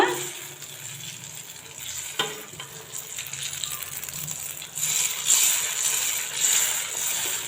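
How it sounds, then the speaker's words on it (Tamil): Batter fritters deep-fry in hot oil with a steady bubbling sizzle, punctuated by occasional clinks and scrapes as oil is ladled over them, close and fairly loud with no talking. "சூடாக்குற எண்ணெயில் இதை போட்டலாம் போட்டு ஒரு ரெண்டு நிமிஷம் அப்படியே விட்டுருங்க இப்படி மேலே எண்ணெய் மோந்து மோந்து ஊற்றுங்க"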